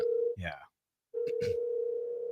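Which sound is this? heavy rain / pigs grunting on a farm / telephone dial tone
telephone dial tone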